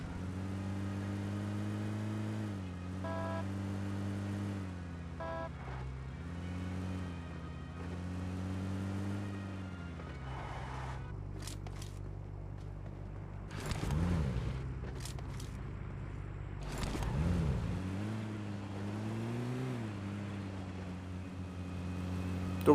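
Vehicle engine in a PUBG-style battle royale video game, a steady mid-pitched drone that rises and falls as the car revs and turns, with a couple of brief louder surges near the end and no talk.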